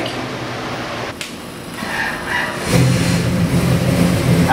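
A 454 cubic inch big-block Chevy V8 crate engine rated at 500 horsepower idles, then revs up and holds a loud, steady rumble close by, with no talking.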